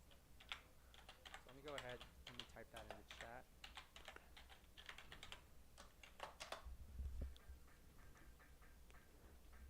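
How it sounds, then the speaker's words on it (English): Fingers type on a computer keyboard in quick, irregular bursts of soft clicks, faint and close, while a person talks at times. "let me type that in the chat"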